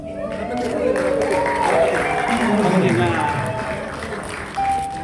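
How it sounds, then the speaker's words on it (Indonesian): A guest crowd claps through a burst of applause at a wedding blessing, the clapping steady under a voice speaking loudly over it. "Kasih tepuk tangan semangat."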